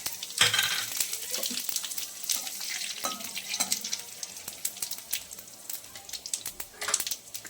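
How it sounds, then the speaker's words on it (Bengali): Bay leaf, cumin seeds and chili hitting hot oil for a tempering, a loud crackling sizzle with sharp spits and pops, then steady frying with occasional stirring clicks. "এবার ফোড়নে তেজপাতা, সাদা জিরা, লঙ্কা।"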